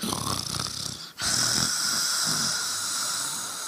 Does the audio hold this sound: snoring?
yes